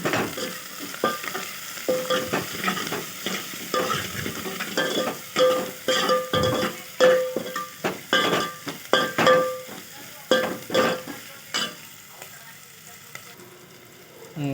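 Food frying in a pan with steady sizzling, broken up by repeated scraping and stirring strokes, close and fairly loud throughout, with no talk over it.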